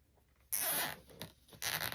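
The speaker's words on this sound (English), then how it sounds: "so I'm going to add the zip tie" A plastic zip tie is ratcheted tight around the loops of a ribbon mourning bow, giving quick, close zipping rasps in two bursts separated by softer handling noise.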